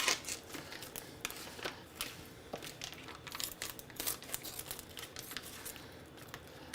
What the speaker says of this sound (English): I gotta cut all this plastic